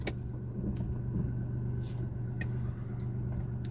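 A 2002 Daewoo Matiz with a 0.8 liter engine drives along, heard from inside as a steady low engine and road rumble with a few faint clicks and knocks over it.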